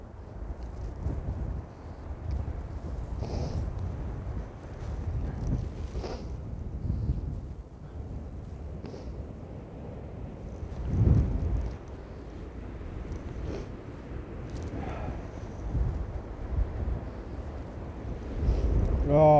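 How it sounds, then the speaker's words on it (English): Wind gusts across the Brancepeth Castle Golf Club course and buffets the microphone with a loud, steady low rumble. Stronger gusts swell and fade throughout. "Our wind, calm down for us. Settle down. It's blowing us over this way."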